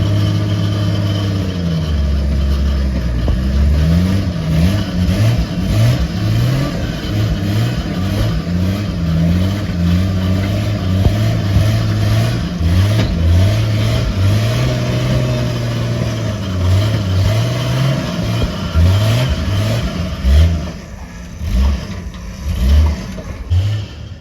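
A Jeep enduro rig's engine revs hard and loud while climbing a rocky ravine, surging and dropping in repeated throttle bursts over a continuous close-up drone.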